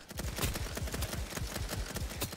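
Rapid, evenly spaced gunshots from a sniper rifle in the Roblox game BedWars, a quiet, continuous burst of sharp cracks with punchy low thumps.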